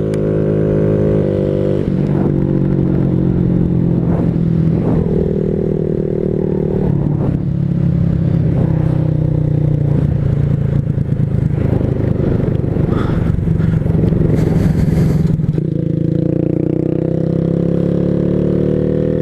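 A Honda Grom motorcycle rides at speed, its loud, close engine drone rising and falling with the throttle. Wind buffets the rider and rattles sound now and then, and the pitch drops toward the end.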